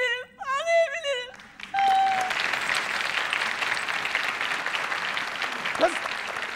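Studio audience applause at a 1997 Turkish television talk show, a dense sustained wash of clapping that follows a brief musical sting and runs steadily to the end, with a voice briefly heard over it.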